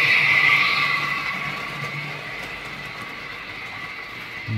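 A 2021 Insider model of an E44.5 electric locomotive runs with matching wagons along a model railway layout, a steady whirring motor hum with a high whine that fades slightly as it moves, no talk.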